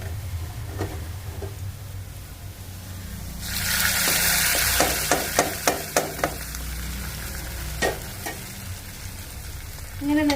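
Mackerel pieces hit hot oil in a pan for a fish curry, after mustard seeds have been fried. A loud burst of sizzling is followed by steady frying, with several sharp clinks from a utensil against the pan.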